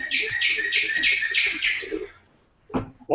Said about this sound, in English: It's the noisy clock in my house